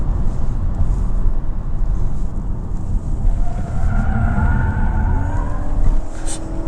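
A 2025 Honda Civic Sport Touring Hybrid driven quickly, with loud, constant road and engine roar and tires squealing through a corner near the end, with no talk over it.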